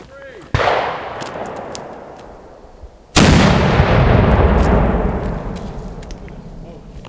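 A cannon firing PVC pipe ammunition outdoors, with one sharp blast followed by a decaying rumble, then a second, louder boom that rolls and echoes for several seconds.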